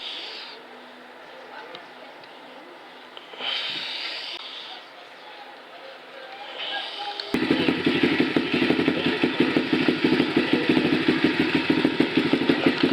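A Stomp 120cc pit bike engine starts up partway through and idles with a steady, loud, rapid rumble close by, replacing quieter ambient noise and a few faint voices heard beforehand.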